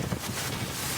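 Whirlwind gusts blowing through Bondowoso, East Java, a steady rough roar of wind buffeting the microphone, loud and continuous with no voices.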